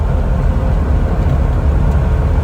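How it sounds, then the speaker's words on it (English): A 2006 Jeep Wrangler LJ Unlimited engine under full acceleration makes a close, steady low-pitched roar that holds constant through the short stretch. "we'll go ahead and do a quick full acceleration real quick"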